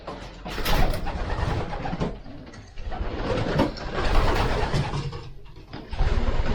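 Racing pigeons coo softly inside a loft, with repeated low murmuring calls and occasional wing and shuffling noises close by, no one speaking.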